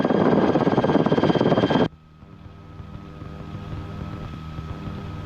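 A Rotorway helicopter on a training flight roars loudly, then the level drops abruptly to a quieter steady rotor and engine drone with a faint rhythmic beat that slowly builds.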